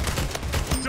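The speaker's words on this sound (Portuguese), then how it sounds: "eu não acredito que eu tanquei esses dois tiros." Rapid bursts of video game gunfire from Splitgate crackle in a dense, loud volley, overlapping into a continuous stutter of shots with close, punchy impacts.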